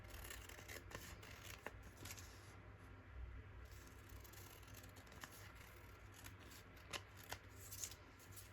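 Scissors trim paper for a craft project with a steady run of quiet, crisp snips and rustles, close but faint, spread over several seconds with no talking.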